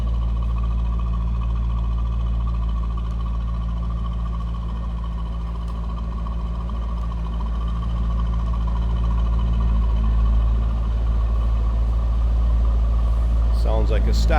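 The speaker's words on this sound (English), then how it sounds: "Sounds like a stock 50th anniversary Corvette" A stock 2003 Chevrolet Corvette 50th Anniversary convertible with a 6-speed idles steadily, a low even engine hum held close and constant throughout, with a brief clatter of handling noise at the very end.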